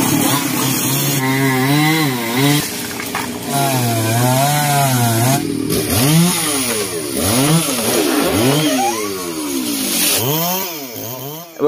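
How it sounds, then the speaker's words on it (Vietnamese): A chainsaw cuts through a tree of valuable timber, loud and close, its engine revving up and down in repeated surges as the blade bites and eases through the wood. "hôm nay mình đi cưa cây này nha"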